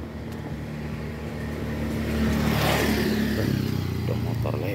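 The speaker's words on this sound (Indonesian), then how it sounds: "Ada motor lewat" A motorcycle passing along a flower-lined road on a morning walk, its engine drone swelling as it nears and fading, close and fairly loud, with faint talk.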